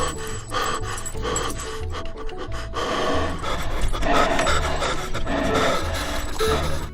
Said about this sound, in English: Please ignore my loud breathing.